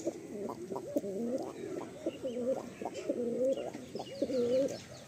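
A pair of pigeons in a loft cooing repeatedly in soft rolling phrases, close and moderately loud, with faint background rustle.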